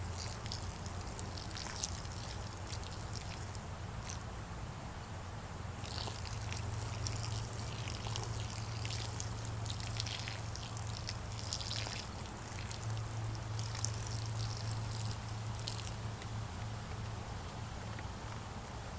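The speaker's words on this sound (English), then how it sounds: "pouring the whole bottle or the whole jar out" Water poured steadily from a bottle or jar as an offering, a continuous trickling splash running the whole stretch at moderate level with no talk.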